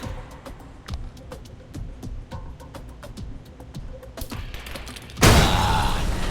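In the game Alpha Protocol, a grenade thrown beneath a truck sets off its gas tank in a loud, sudden blast near the end. Scattered thuds and pops come before it, and a sustained roaring rumble follows.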